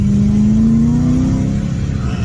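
BMW E92 M3 V8 engine revving up to about 4000 rpm on a cold day, a loud close rising engine tone that climbs then settles into a rough steady rumble.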